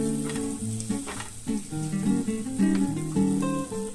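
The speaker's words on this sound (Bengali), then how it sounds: "একটু হলুদ গুঁড়ো আর সামান্য পরিমাণে আমি দেব একটু জিরের গুঁড়ো দিয়ে মশলাটা ভালো করে নাড়াচাড়া করে ভাজা ভাজা করব" Turmeric and cumin spice paste frying in a pan for masoor dal, with a steady close sizzle and repeated scraping stirs throughout, no talk.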